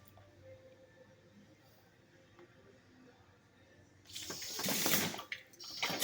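Water flushes through the heater core of a 2012 Toyota Prius V, a faint trickle that suddenly turns into a loud, rushing gush of flow near the end.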